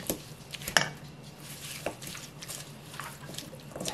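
Stonecrop namul dressed with soy sauce and sesame oil being tossed in a bowl: faint, scattered clinks and soft wet squishes at an irregular pace, close by and without speech.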